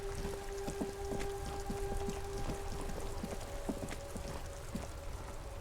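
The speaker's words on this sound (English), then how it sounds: "I didn't even realize it was raining" Steady rain pattering on a surface in the video game Disco Elysium, with irregular drip-like taps over a constant hiss and a faint low hum underneath.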